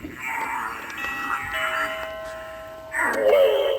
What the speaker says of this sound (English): We actually have this doorbell